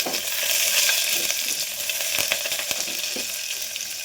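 Onion and chickpeas fry in oil with a steady, close sizzle, broken by faint clicks of stirring.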